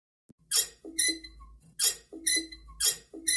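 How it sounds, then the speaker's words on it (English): A long-unused squeaky faucet being turned on gives four sharp, high squeals in a repeating rhythm, each followed by a short lower squeak, loud and close with no talk. "that's how squeaky that faucet is"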